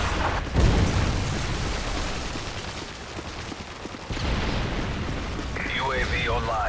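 A loud, rumbling in-game explosion, such as a Predator missile strike in Modern Warfare 3 Team Deathmatch, bursts near the start and is followed by sustained noisy rumble, a second swell midway and whistling tones near the end.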